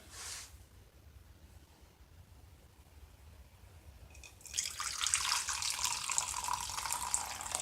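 Water runs from a tap into a container while a crystal-growing jewelry kit is filled, a faint splash at first, then a bright steady hiss of flowing water over the last few seconds, with no talking.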